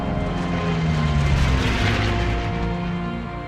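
A Supermarine Spitfire Mark I fighter plane flies past with its engine droning, a steady loud roar with a deep rumble that swells in the middle and slowly fades.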